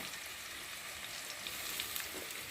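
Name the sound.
spice paste frying with turmeric, chilli, ginger, cumin, tomato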